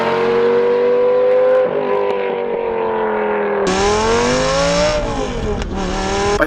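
A Lamborghini Gallardo revs hard through a loud titanium exhaust, pitch climbing and falling in long sustained roars, close and aggressive.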